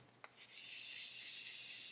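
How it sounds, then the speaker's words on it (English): Sandpaper is rubbed lightly, without pressure, over a poorly molded 1/12 scale Italeri Strato model car body: one tap, then a soft continuous hiss of close-up sanding. "go over, no pressure, just lightly sanding"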